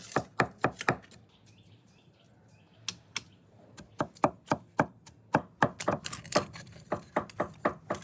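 Meat is chopped on a board for cabbage rolls in a rural village kitchen, with sharp knife strikes in irregular bursts, quick runs broken by a short pause, close and fairly faint.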